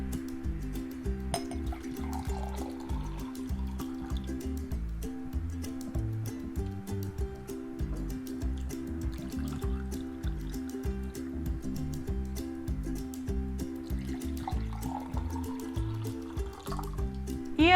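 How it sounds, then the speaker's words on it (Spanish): Water poured back and forth from one glass to another, a long continuous close trickle and splash with gently varying gurgles, heard alone. "El segundo sonido que vamos a hacer es pasar el agua de un vaso a otro."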